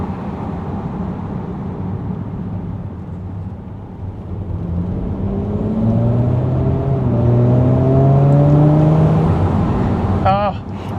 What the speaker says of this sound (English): You hear that blow-off valve from the turbo.